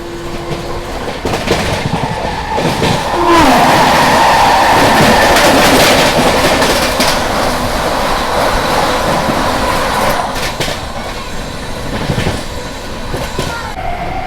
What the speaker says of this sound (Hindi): तो सामने से अभी आ रही है नई दिल्ली वाराणसी वंदे भारत एक्सप्रेस।